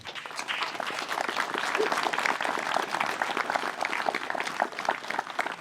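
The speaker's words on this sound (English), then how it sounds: "give yourselves a big round of applause" Sustained applause from a gathered crowd of family and friends at a memorial celebration of life, steady dense clapping throughout with a faint murmur of voices underneath.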